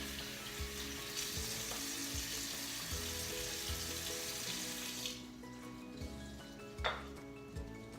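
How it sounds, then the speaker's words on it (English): Baked potatoes rinsed under running tap water and scrubbed with a vegetable brush at a kitchen sink, a steady wash of water with rhythmic brushing strokes and a few louder knocks, no talking. "we're going to rinse them and give them just a light scrub with the vegetable brush"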